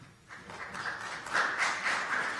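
An audience at a candidate forum for state senate and house of delegates claps after a candidate's answer, a brief spatter of applause that swells for about two seconds with no one speaking.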